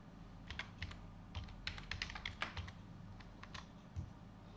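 A password typed on a computer keyboard in a quiet room: a quick, uneven run of light key clicks, soft and close, with no talking.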